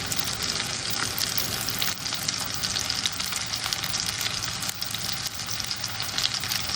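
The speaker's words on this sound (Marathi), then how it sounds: "एक बेगी लेपो फ्राय करता" Lepo fish frying in a pan in a Goan home kitchen, a steady loud sizzle and crackle of hot oil that continues without pause, close by.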